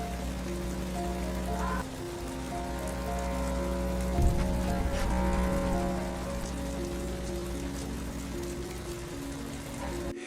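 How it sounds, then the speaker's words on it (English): Rain falls steadily outside a house near a doghouse, a constant hiss of drops on surfaces with a low steady hum underneath and a slight swell in the middle. "Rain begins to fall again as Indy sits shivering,"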